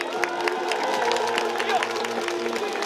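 Baseball fans clap and cheer in a stadium at a Kia Tigers regular-season championship celebration, a moderate crowd of applause with babble and voices mixed in.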